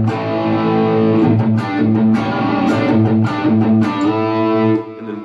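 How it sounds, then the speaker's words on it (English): A distorted electric guitar through a tube amp with gain turned up plays loud sustained chords and riffs, thick and buzzing heavy overdrive, with no talking. "I basically turn up the gain or overdrive from my amp"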